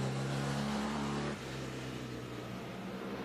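A vintage car accelerating at full throttle during a roadside noise test, a loud steady engine roar that drops slightly in pitch and level partway through, with no speech.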